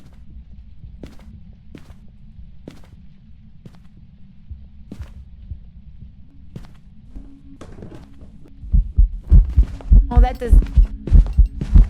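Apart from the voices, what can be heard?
heartbeat sound in Phasmophobia video game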